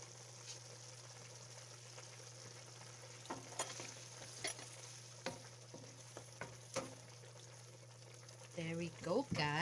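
Pasta cooking water added to a pan of ground turkey with shrimp and Cajun seasoning sets off a steady sizzle and frying hiss, with light stirring clicks and a sharper bubbling burst near the end.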